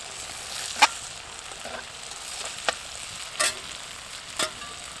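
Potatoes sizzle in an oiled, well-seasoned skillet over a campfire, a soft steady fry with a few sharp scrapes as they are pushed around the pan.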